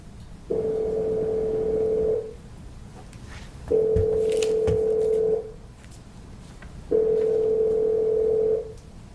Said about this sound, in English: Please wait while your call is being connected.